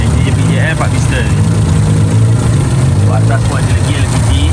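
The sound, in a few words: JBJL four-piston car engine running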